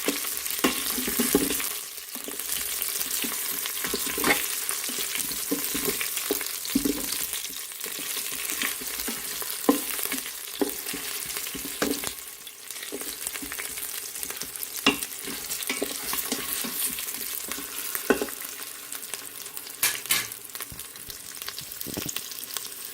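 Goat curry with bay leaves sautéing in an Instant Pot, a continuous soft sizzle with frequent scraping and stirring clicks, moderately quiet and close, no voices.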